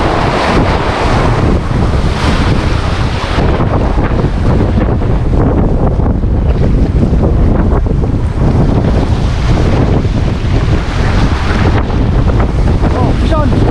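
Rough surf and strong monsoon wind on open water, a loud unbroken roar of crashing waves and heavy wind buffeting across the microphone, steady throughout.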